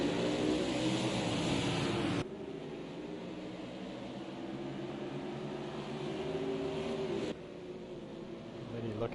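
Stock cars race at Texas Motor Speedway in a racing video game, with a continuous droning engine roar that shifts in level as cars pass. Commentators talk over the engine noise.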